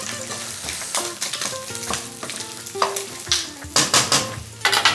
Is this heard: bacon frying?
yes